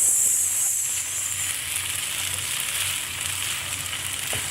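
Indian-style kuey teow noodles frying with spring onions, a steady close sizzle and hiss going on throughout with light stirring.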